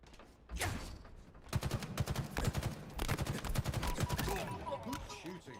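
Rapid bursts of gunfire, likely from a video game, fire in dense sharp volleys for several seconds. The shots are loud and close and carry some rumble, with a faint voice beneath them.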